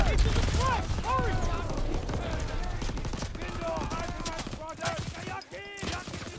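Gunfire in Call of Duty WWII during the D-Day campaign, rapid bursts and scattered shots mixed with shouting voices and battle noise throughout.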